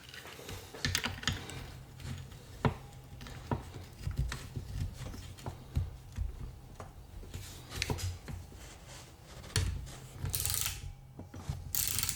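A wrench works a nut loose on the breaker point unit of a Honda CB750 motorcycle, giving a close run of small metallic clicks and ratcheting taps spread irregularly over several seconds.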